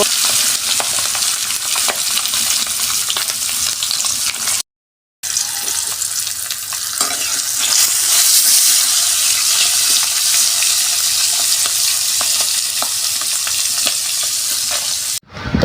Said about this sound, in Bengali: মাছটা এভাবে উল্টিয়ে পাল্টিয়ে ভালোভাবে ভেজে নেবেন